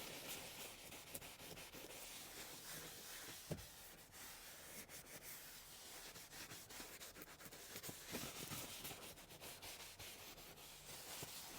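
Neglected leather car seats scrubbed gently with an Autofiber Scrub Ninja, producing a continuous soft brushing and rubbing hiss at close range with a few faint knocks and no talking.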